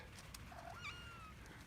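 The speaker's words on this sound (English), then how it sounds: "yes kitty, what?" A cat meows faintly in a quiet garage, giving one short rising call followed by a thin trailing whine against low background hum.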